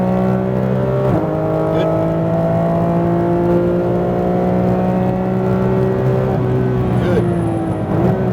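A Porsche GT3 RS engine revs hard on a race track at Speed Vegas, holding a loud, steady high-pitched drone with rising pitch sweeps as the car accelerates. A voice briefly speaks over it.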